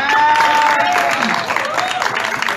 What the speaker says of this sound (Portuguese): Pedir uma salva de palmas maravilhosa pra essa mulher.